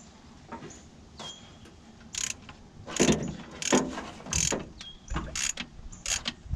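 Work on removing the fuel pump from a 390 big block engine in a 1977 F600 tow truck: several sharp metallic clicks and ratcheting bursts from tools, close and uneven in rhythm.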